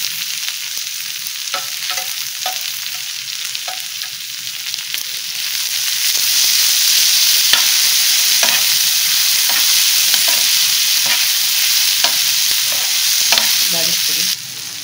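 Onion and tomato masala for butter chicken sizzles steadily in the pan, with utensil stirring clicks and scrapes throughout, the frying growing louder and denser about halfway through.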